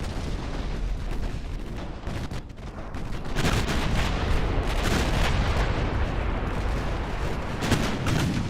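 Naval guns firing in the Ultimate Admiral Dreadnoughts battleship game, a dense continuous rumble of heavy booms and blasts layered over each other, loud and sustained without pause.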